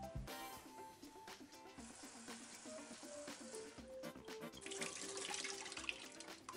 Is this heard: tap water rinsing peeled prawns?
yes